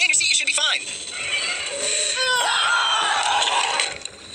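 A high-pitched cartoonish voice, the character Teardrop from Battle for BFDI, screams and squeals in bursts, with warbling cries sliding up and down, loud and close.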